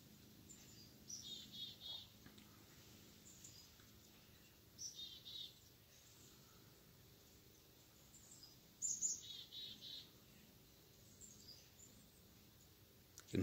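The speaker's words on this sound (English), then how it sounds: "You can hear the birds chirping out here this morning." Birds chirp in short scattered bursts on a cool morning outdoors at sunrise over Lake Superior, faint against a quiet background hiss.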